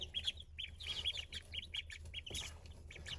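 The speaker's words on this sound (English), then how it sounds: "I don't mind them quacking." Steady, rapid series of small nasal quacks and chirps from several birds, soft and a bit distant over low background rumble.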